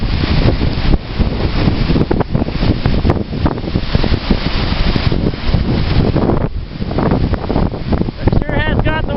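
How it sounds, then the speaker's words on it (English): Strong wind buffets the microphone at the end of the North Pier in Kincardine while lake waves roll in and break, a loud continuous roar with surges of surf and spray on a January day. "And the waves are just rolling in. It's so windy."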